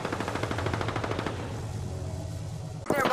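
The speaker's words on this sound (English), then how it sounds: "The enemies are shooting at me." Enemy machine-gun fire in Apex Legends, a rapid regular burst of close shots for about a second and a half that fades into a low rumble, then a sharp brighter sound at the very end.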